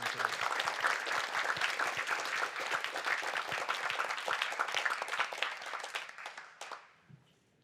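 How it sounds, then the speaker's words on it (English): An audience at a mental health charity's AGM gives sustained, even applause for an award runner-up, steady for several seconds before thinning out and fading near the end. "can we have a round of applause for her?"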